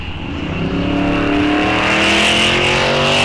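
A Ford Mustang bracket drag racer launches and accelerates hard down the strip at Rock Falls Raceway, its engine a loud, sustained roar that climbs steadily in pitch and stays close and dominant throughout, with no voices.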